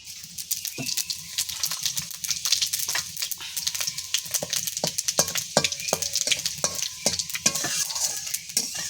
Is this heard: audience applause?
no